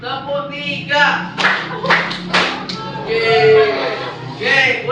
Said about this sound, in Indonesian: Sekarang sambil bertepuk ya.